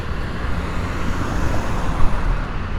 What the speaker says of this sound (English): just a particularly loud car going by